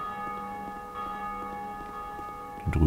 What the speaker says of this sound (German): Glocke geläutet.